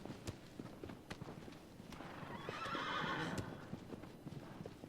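A horse's hooves clip-clop at a walk in the video game Shadow of the Colossus, then a loud neigh swells in the middle before the hoofbeats continue, with no talking.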